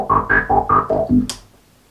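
An old Moog Multimoog synthesizer plays a quick run of six sustained, buzzy notes in a descending pattern, close and clear, ending with a short hissy burst before fading to quiet.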